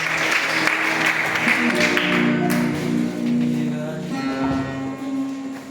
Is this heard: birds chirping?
no